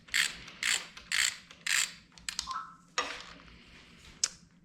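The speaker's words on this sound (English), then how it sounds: "So I got to get a 10 mil wrench here for that one." A 10 mm ratcheting wrench working a bolt on a Honda D16Z6 engine from a 1992 Civic, four bursts of rapid ratchet clicking followed by scattered metallic clicks and a clink, close up.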